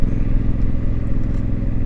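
Honda Africa Twin motorcycle fitted with a Fuel aftermarket exhaust, running on a cool, windy evening in the UK, gives a loud, steady, deep engine rumble with no voices over it.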